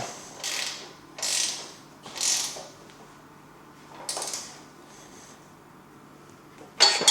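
A Rolux X-Series or S-Series reel mower's bedknife adjustment bolts being tightened, giving several short ratcheting wrench bursts spaced a second or so apart, moderately loud and close, with a sharper metallic click at the end and no talking.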